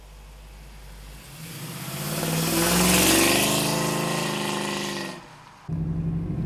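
A 1968 Chevrolet Camaro engine revs up and drones loudly nearby, pitch rising then easing off before a brief drop and steady idle.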